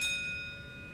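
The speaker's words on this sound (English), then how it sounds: "When you hear the bell," A bright bell chime in an oil change commercial rings out with a clear sustained ringing tone that slowly decays over a low background, alone with no voice.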